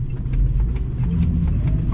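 An Electra Meccanica Solo electric car drives at full throttle, a steady loud rumble of road and motor noise heard from inside the cabin.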